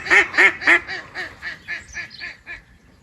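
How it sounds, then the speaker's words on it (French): Ducks quacking close by at a waterside stop on a camper-van trip, a run of about ten loud nasal quacks in quick rhythm that gradually fade toward the end. "Je crois pas qu'on dit petit à un canard."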